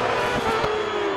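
Crosskart in the DiRT 4 racing video game braking hard, a steady engine drone with a sharp tonal whine that slides downward over a little over a second, loud and alone with a brief thump midway.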